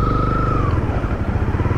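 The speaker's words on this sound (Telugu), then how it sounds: "ఇదిగో ఇక్కడ ఒక స్ప్లెండర్ బైక్" A Splendor motorcycle engine drones loudly and steadily close by, its pitch sliding slightly as it moves past.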